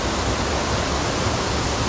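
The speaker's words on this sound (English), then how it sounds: "It is quite a nice waterfall, like." Harmby waterfall pours beneath a road in a steady, loud, unbroken roar of rushing water, heard close and alone.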